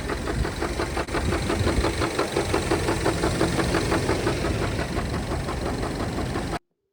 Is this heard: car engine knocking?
yes